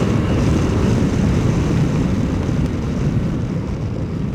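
Suzuki V-Strom 650 motorcycle riding at speed, a steady loud roar of engine and rushing wind buffeting the microphone, constant throughout with no talking.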